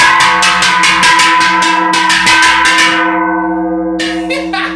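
A large bell rings loudly and close in a fast run of rhythmic strikes, and its sustained tone rings on between strikes and fades near the end before a final quick burst.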